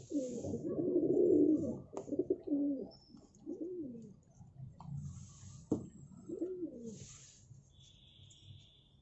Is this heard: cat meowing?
no